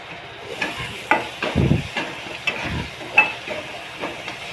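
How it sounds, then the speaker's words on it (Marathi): Onion and tomato fry in a pan while a utensil stirs them, giving soft sizzling under repeated scraping and stirring strokes at close range. "चांगलं भाजून घ्यायचं दोन्ही पण, कांदा टोमॅटो."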